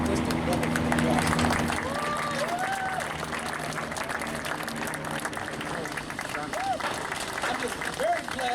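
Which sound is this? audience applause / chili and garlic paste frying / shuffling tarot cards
audience applause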